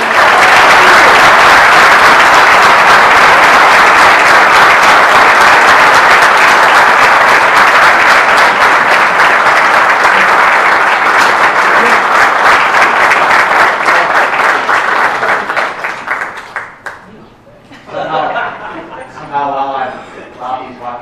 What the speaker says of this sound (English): So, Chief, we give him one more round of applause.